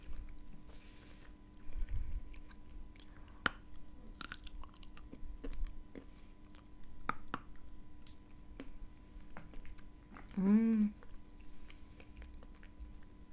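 Quiet, close chewing of edible kaolin clay with soft crunchy bites and wet mouth sounds, scattered irregularly; a brief animal-like cry stands out partway through.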